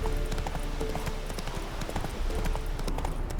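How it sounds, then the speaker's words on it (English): Horse hooves clip-clopping steadily in The Witcher 3: Hearts of Stone, a continuous rhythmic trot of closely spaced hoof strikes over ambient game background, with no talk. "Spooking my horse. Roach doesn't like ghosts."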